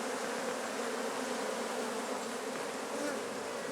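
Honeybees buzzing in a steady, dense drone, many insects at close range forming a continuous hum with no pauses and no voices.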